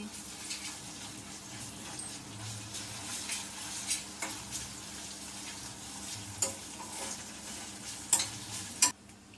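Ginger paste frying in a hot pan, stirred steadily with a soft sizzle and occasional scrapes and clinks of a utensil against the pan, with no talking.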